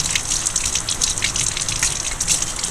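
Water gushes steadily over art texture tools as paint is rinsed off them after monoprinting from a plexiglass plate, a close, continuous rushing flow with no talking.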